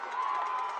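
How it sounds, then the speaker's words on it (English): Football crowd cheering at a Fort Scott versus Pittsburg game, a steady broad roar of many voices sustained throughout the short moment without pause. "Now the crowd trying to get into this."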